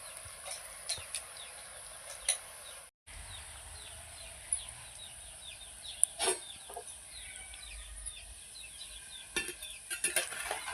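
Small carrot pakodi frying in hot oil, a faint continuous bubbling sizzle punctuated by sporadic clicks and taps of utensils, with one brief dropout, close but quiet and without speech.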